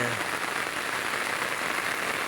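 Rain pours down steadily over floodwater rising around a house, a close, unbroken hiss of dense drops with no pause in the brief stretch.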